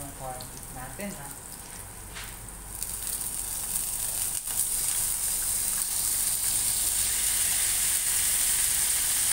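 Corned beef frying in a pan with Baguio beans, a loud steady sizzle that swells in and holds, with a voice talking briefly before it builds.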